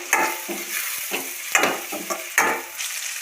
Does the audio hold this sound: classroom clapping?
no